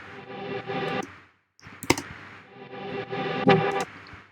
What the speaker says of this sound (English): I'd like take this, resample it, and put more reverb